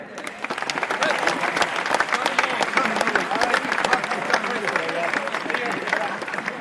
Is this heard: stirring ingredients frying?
no